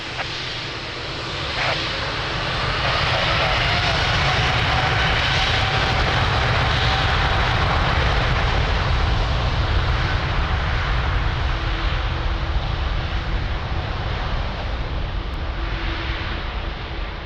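A heavy jet airliner takes off from runway 02 at Lisbon Airport, its engine roar swelling quickly and then holding loud and steady as the aircraft accelerates.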